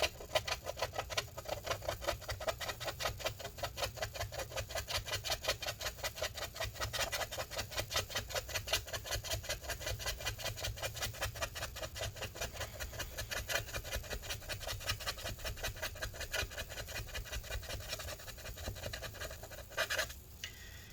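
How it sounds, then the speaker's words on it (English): Battery adhesive is scraped out of a 2012 15-inch MacBook Pro Retina A1398, producing rapid, rhythmic scratching strokes up close, steady and fairly quiet, with no talking. "we're just going to continue scraping this stuff out"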